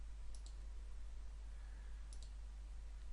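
Computer mouse clicks while working in Excel 2013, two quick pairs of faint, crisp clicks separated by a pause, set against a steady low hum.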